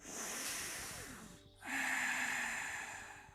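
During a yoga session, one person draws a deep, hissing breath in and then, after a short pause, lets out a long, slow exhale, both close and quiet with no talk.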